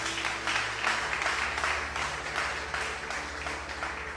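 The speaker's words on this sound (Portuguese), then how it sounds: "Dê uma salva de palmas para Jesus" Congregation clapping during a church service, a steady broadband wash of applause lasting the whole moment, with faint organ or keyboard tones sustained underneath.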